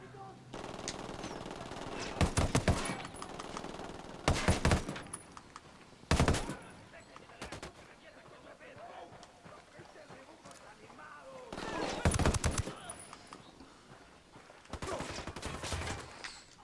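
Bursts of automatic gunfire in the video game Ghost Recon Wildlands, several loud volleys spaced apart with quieter ambience and scattered shots between them.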